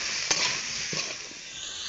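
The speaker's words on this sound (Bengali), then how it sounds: "পেঁয়াজ লঙ্কা ভালো করে ভেজে নিয়েছি। এবার দিয়ে দিচ্ছি সবজি" Potatoes and aubergine tipped into a pan of hot oil with onion and chilli already fried, giving a steady broadband sizzle with a couple of brief soft stirring knocks.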